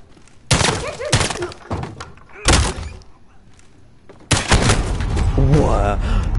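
Gunshots in a video game played on veteran difficulty, several loud sharp blasts in separate bursts with clattering impacts between, and voices speaking over parts of it.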